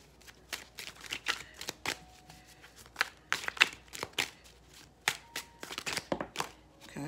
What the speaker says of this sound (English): Let's get some more cards from another deck.